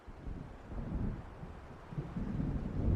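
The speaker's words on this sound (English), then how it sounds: "It seems there's a storm coming." Thunder rolls from an approaching storm in Alan Wake, a low rumbling swell that rises and falls and grows louder toward the end, with a windy, watery wash underneath.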